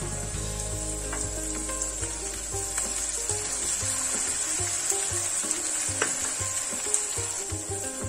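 Slit green chillies and curry leaves fry in hot oil in a pan for a squid roast, making a steady, close sizzle with occasional crackles and light stirring scrapes, with no voice.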